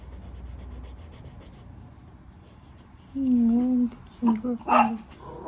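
A pet dog barks indoors at a postman arriving, starting with a drawn-out whining bark and then several short loud barks over a low background hum.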